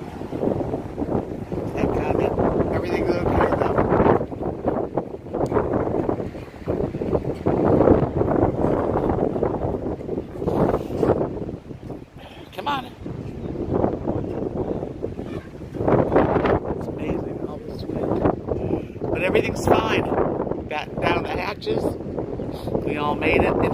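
Strong, gusty wind of around 30 miles an hour in Texas buffets the microphone in rough, continuous roaring surges, with muffled voices now and then beneath the noise.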